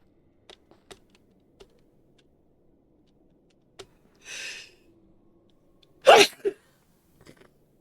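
A person sneezes close to a microphone during a Minecraft livestream, one sharp loud burst with a short trailing tail, preceded by a softer sniff or stifled sneeze and a few light clicks.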